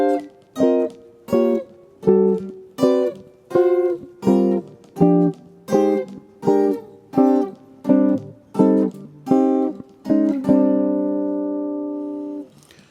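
Jazz guitar chord voicings from a solo, played slowly: about a dozen evenly spaced plucked chords, close and clean, ending on a long ringing chord that fades out, with no talking.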